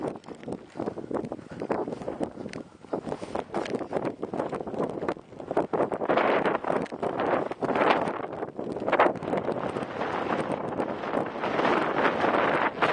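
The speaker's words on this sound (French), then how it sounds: "Oh la vache, il y a du vent ici." Strong wind blowing on a mountainside buffets the microphone in loud, continuous gusts with a roaring rumble that swells and surges throughout, no voices heard.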